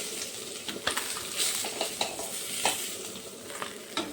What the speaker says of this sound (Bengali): তো বাকিগুলো আমি ভেজে ফেলছি এখন এইভাবে।